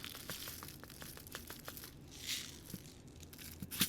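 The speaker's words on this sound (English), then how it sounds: "I'm going to take some of the clear diamond crushed glass and just put it in a cup." Clear diamond crushed glass is poured into a cup for resin craft work, giving a run of light crinkly rattles and small gritty clinks that come close together, plus a couple of sharper taps.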